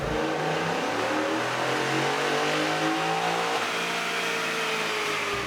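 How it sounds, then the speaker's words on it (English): A 2021 Ford F-150 5-liter engine revs hard and steadily under load on a dyno, a loud continuous roar with rising and falling pitch, close by. "we just finished up a couple dyno pulls here with the 21 5-liter truck"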